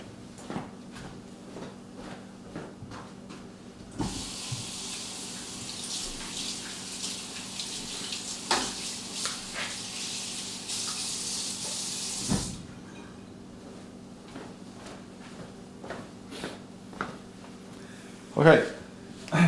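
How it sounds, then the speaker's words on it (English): Tap water running in a sink to rinse ink from a paint brush: a steady hiss of flowing water for several seconds, then clinks and small splashes from handling, with a person talking throughout. "because some ink may stain the brush, so I'm going to wash it"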